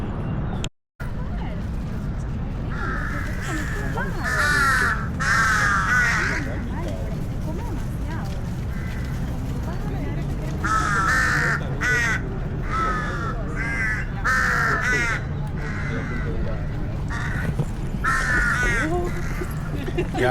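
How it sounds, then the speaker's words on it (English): Crows caw repeatedly in harsh, bunched bursts over an outdoor Bangkok scene where people are eating and the birds try to steal food, with steady ambient noise underneath. "The birds trying to steal the food"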